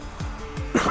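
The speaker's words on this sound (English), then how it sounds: "I'm coughing" Two or three short, rough coughs from a sick man close to the microphone, then a brief vocal sound at the end.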